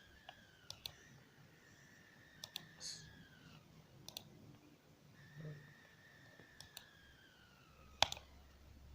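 Sharp, isolated mouse clicks while working in PDMS design software, scattered irregularly across the clip, close and dry, with faint room tone and soft background speech sounds between them.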